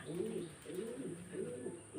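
Budapest pigeons coo softly, a quiet rhythmic series of about three low, rolling coos repeating close by with faint background hiss.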